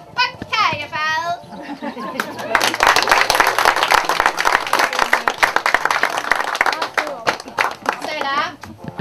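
A circus audience breaks into loud, sustained applause with cheering, the clapping dense and continuous for several seconds, framed by children's voices chattering before and after.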